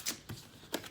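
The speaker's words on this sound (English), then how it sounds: "I gotta shuffle these tarot cards real fast" A deck of tarot cards being shuffled by hand, a few quiet, quick riffling bursts close by in a hushed room, with no talking.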